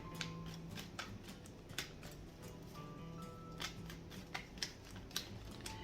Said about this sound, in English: I keep shuffling the cards back into the deck